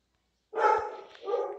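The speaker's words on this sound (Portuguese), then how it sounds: "cachorro chato latindo já" A dog barks nearby, one loud bark followed by a second shorter one after a brief pause, heard alone against silence.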